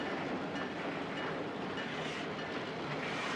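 A train rolls past on the railway with a constant broadband rumble and wheel noise, steady and fairly close for the whole stretch, with no voices.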